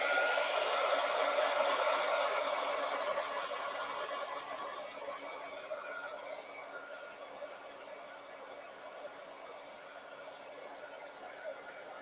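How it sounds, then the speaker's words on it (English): A hair dryer blows on fresh paint on a mandala piece, a steady high whooshing whine that fades slightly as it runs on alone. "But I'm going to zap mine with my dryer just for a second."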